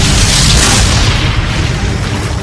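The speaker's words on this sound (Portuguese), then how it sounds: "A artilharia da União os esmagava." Union artillery cannon fire at Gettysburg, heard as a dense, continuous low rumble of booming detonations that fills the whole stretch loudly, with no individual shots standing apart.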